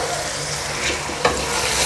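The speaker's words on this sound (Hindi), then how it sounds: "अब चिकन को भूनेंगे अच्छे तरीके से" Chicken pieces fry in a pan with tomatoes, a close, constant hiss of sizzling oil broken by a sharp scrape of a spoon against the pan midway.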